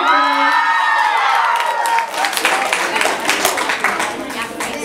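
Crowd at a youth awards night cheers and claps loudly at first, then the noise breaks into scattered claps and whoops that fade over a few seconds.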